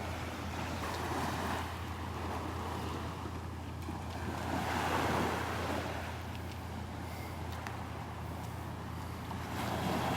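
Ocean waves roll onto a beach at Delnor-Wiggins in a soft continuous wash, one gentle swell building in the middle, with some wind noise and no talking.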